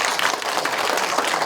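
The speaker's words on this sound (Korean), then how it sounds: "큰 박수로 환영해 주시기 바랍니다." Seminar audience at an elder human rights seminar clapping to welcome a presenter, a brief dense burst of applause that stays level throughout.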